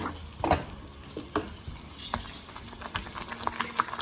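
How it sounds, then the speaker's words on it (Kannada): Masala frying in a pan for dry prawn chutney, with a soft steady sizzle under occasional scraping and clinks of a spoon stirring against the pan. "ಇವಾಗ ಮಸಾಲೆ ಹಾಕಿದ್ದೀನಿ ಕ್ಲೀನಾಗಿ ಫ್ರೈ ಮಾಡಬೇಕು ಸ್ವಲ್ಪ ಗಟ್ಟಿ ಆಗೋವರೆಗೆ ಫ್ರೈ ಮಾಡ್ತಾ ಇರಬೇಕು"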